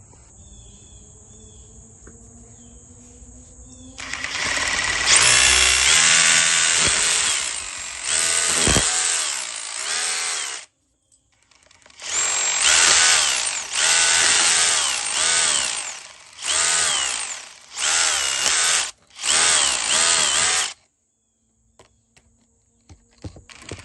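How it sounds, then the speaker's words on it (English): A DeWalt chipping gun with a small chisel bit hammers at brick to clear space for an electrical box, a loud rapid rattling chatter in several bursts of a few seconds each, separated by short pauses. "We're gonna use a little DeWalt chipping gun, a little tiny chisel bit."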